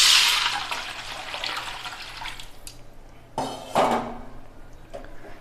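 Tomato and tamarind water is poured into a pot of wedding-style rasam, giving a soft splashing pour at the start that fades out, followed by a couple of clinks of metal cookware, close and fairly quiet.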